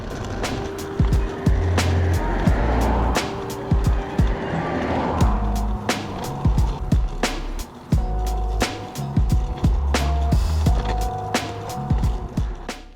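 Kid's kick scooter rolling on smooth tarmac, with a continuous rumbling roll broken by frequent sharp clacks and bumps from the wheels, close and fairly loud.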